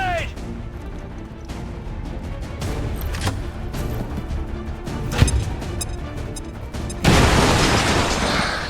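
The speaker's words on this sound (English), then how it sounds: "Grenade!" A grenade detonates in the video game XCOM 2, a sudden loud broadband blast late in the clip after tense game sounds and a sharp crack, with voices speaking beforehand.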